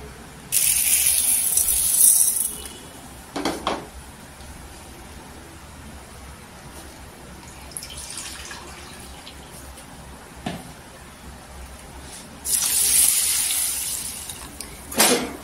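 Lentils for medu vada rinsed in water in a home kitchen, with bursts of splashing and pouring water near the start and end and quieter stirring and swishing between them, no talking.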